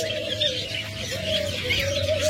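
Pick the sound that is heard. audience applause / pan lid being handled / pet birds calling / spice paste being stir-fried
pet birds calling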